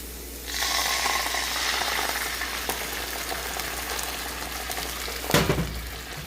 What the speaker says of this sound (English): we're going to add the white wine and bring it to a boil